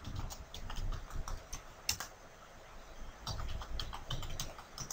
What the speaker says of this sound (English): I do that by typing in ePhone DN followed by the tag.